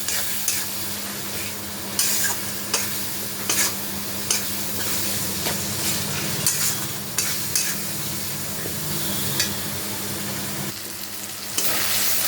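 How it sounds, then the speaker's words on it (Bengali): Spice paste with cumin powder and a pinch of sugar sautéed for a chitol fish curry, a continuous loud sizzle with regular scraping strokes of the spatula across the pan, nobody talking. "দিয়ে আমি মশলাটা একটু কষিয়ে নেব।"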